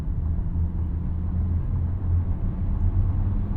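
A 2024 Mazda CX-50 accelerates while merging onto a highway, heard from inside as a continuous loud low engine and road rumble that holds steady throughout, with no talking.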